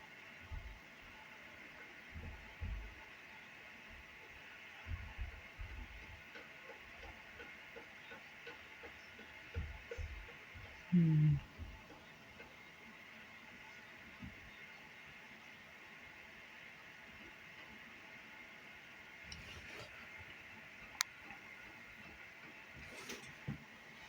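A CPKC manifest freight train led by CP-137 rolls past at a distance, a faint steady rumble broken by soft scattered clunks of passing railcars, with one brief louder knock midway.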